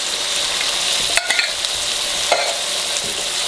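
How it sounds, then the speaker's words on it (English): Spoon scraping and stirring through a pot of jambalaya as canned diced tomatoes are mixed in, a steady sizzle underneath with a few sharp clinks and scrapes, close and alone without talk. "Mix that up."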